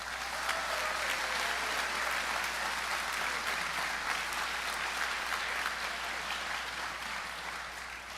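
A large crowd at an opening session claps in a full, continuous round of applause, thick and steady from start to finish, heard from a moderate distance.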